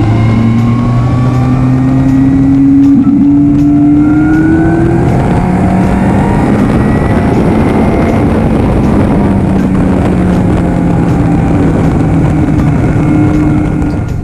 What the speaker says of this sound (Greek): Και αυτός ο ήχος της εξάτμισης είναι υπέροχος